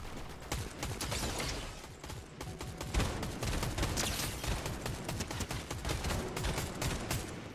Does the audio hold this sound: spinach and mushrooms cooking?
no